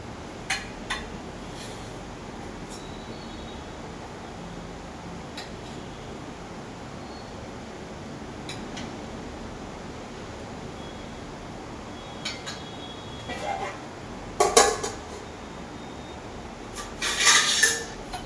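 Plates of sweet offering being laid out for sharing, with a few light clinks of dishes and cutlery scattered through a quiet room, the louder clatters coming near the end.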